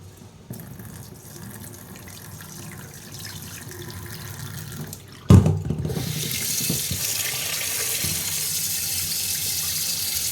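Rice is washed in a sink while the tap runs. A low swishing and handling comes first, then a sharp clunk, then the water gushes loud and steady close by.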